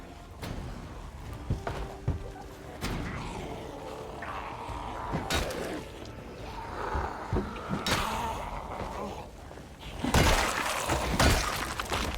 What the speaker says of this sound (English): Oh, window crashing behind me?